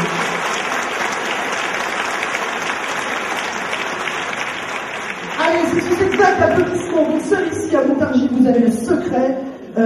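Audience applause at a Miss Orléanais 2014 beauty pageant fills the room as broad, steady clapping, then a voice begins speaking over it partway through while the clapping continues underneath.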